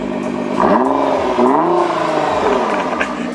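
A Nissan GT-R fitted with an ARMYTRIX exhaust revs with its valves open, a loud, close engine note climbing in pitch twice in quick succession over a steady idle, with no talking.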